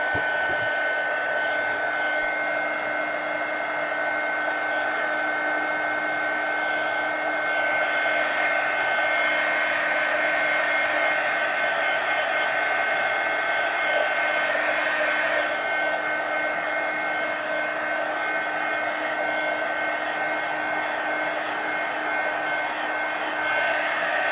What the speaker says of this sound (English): We'll dry this so I'm not setting my arm in it.